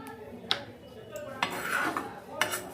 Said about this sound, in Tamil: இந்த பொரியல் சத்தம் கேட்குது.